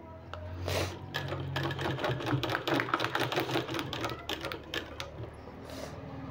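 A sewing machine stitches a sleeve piece of a garment in steady bursts of fast, even mechanical clatter, close and fairly loud, with brief pauses and faint room noise and no speech.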